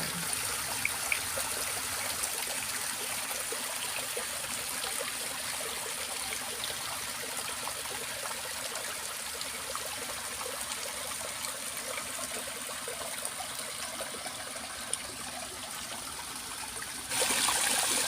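Water streams steadily through a drainage channel beside green rice fields, a continuous close trickling and rushing flow with no voices.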